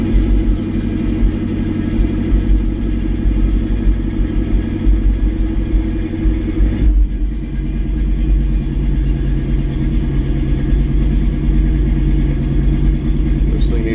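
A 1984 Chevrolet K20 truck engine rumbles loud and close, holding a steady idle with a brief dip midway before settling back into a deep, even drone.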